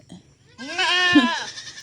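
A goat lets out one loud, close bleat in a goat shed, wavering and drawn out for about a second after a short quiet stretch, with a faint bleat just before it.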